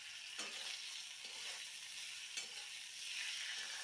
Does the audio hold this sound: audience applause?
no